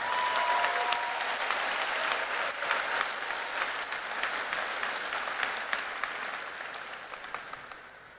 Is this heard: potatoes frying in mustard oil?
no